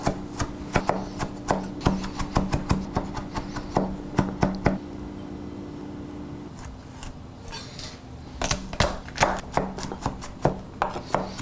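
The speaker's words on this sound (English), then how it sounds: "we're gonna put a really fine mince on this garlic to make sure that with each bite, there's just a little bit" A knife finely minces fresh garlic cloves for cowboy butter, tapping out quick, crisp chops close up in steady bursts, with a short pause midway before the rapid chopping resumes.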